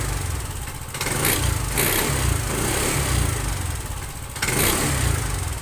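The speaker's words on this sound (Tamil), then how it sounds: "ஆக்சிலேட்டர் ரைஸ் பண்ணும்போது பார்த்தீங்கன்னா ஒரு பெல் சவுண்டு மாதிரி வரும்" TVS Jupiter 125 BS6 scooter engine with an abnormal bell-like noise under acceleration, revving up in close, loud surges with a brief dip between throttle openings.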